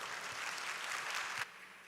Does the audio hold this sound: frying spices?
no